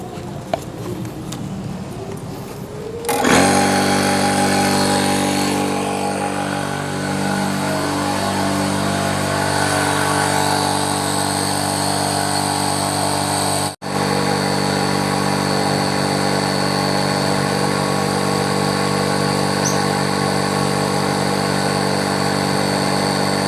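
Electric air pump inflating a Naturehike Air 13.2 inflatable tent: a steady, loud motor drone starts abruptly after a few seconds of quiet and runs continuously, with one brief dropout partway through.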